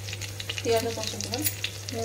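Bay leaf and cinnamon sizzle steadily in hot mustard oil in a pan for mutton curry, a close, continuous crackling fry over a low electrical hum.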